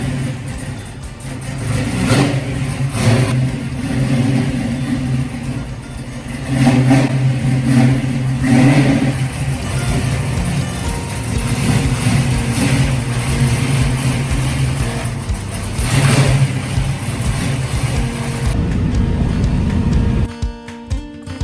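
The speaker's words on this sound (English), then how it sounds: "he did fire up the motor for us, so here we're going to let you listen to that for a moment" A 1946 Dodge pickup's old engine runs steadily close by, with repeated revs that swell and fade across the whole stretch before it cuts off near the end.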